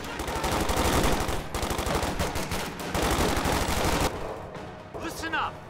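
Machine gun fire in the WWII strategy game Company of Heroes 2: a loud, sustained rapid rattle of automatic fire with short gaps, then fading into quieter battlefield sounds with distant whistling shells.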